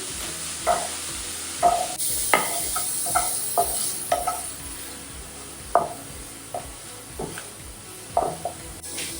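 Onion stirred and sautéing in a hot pan for a quick egg breakfast, a steady soft sizzle broken by repeated scraping stirs of a spoon against the pan, close and moderately loud, no talking.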